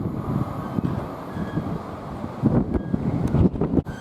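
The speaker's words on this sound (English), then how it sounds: "now arriving in, we have a GBRF Class 47 with the wind at the worst moment" A GBRF Class 47 diesel locomotive arrives at Nuneaton on the West Coast Main Line, its low rumble largely buried under heavy gusting wind buffeting the microphone.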